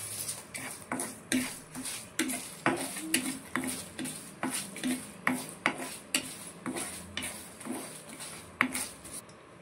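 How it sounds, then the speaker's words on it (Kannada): Chicken masala ingredients dry roasting in a pan, a faint close scraping and stirring with repeated light clinks of a spoon against the metal pan, steady and unhurried. "ಡ್ರೈ ಆಗಿ ಹುರ್ಕೊಳ್ತಿದ್ದೇನೆ."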